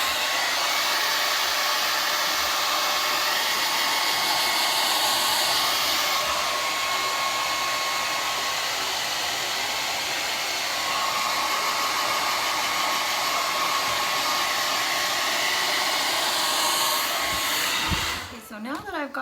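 A handheld blow dryer runs steadily while drying hair, a loud, close, continuous whooshing roar that holds for most of the span before it is switched off near the end.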